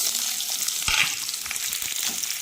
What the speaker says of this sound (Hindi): मैं डाल दे रही हूँ इसमें फटाफट से प्याज।